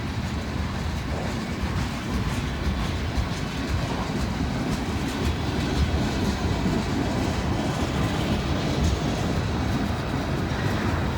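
A long, heavy Union Pacific freight train with boxcars rolls steadily past close by, a continuous loud rumble with rhythmic wheel clatter and rattling cars, with no voices over it.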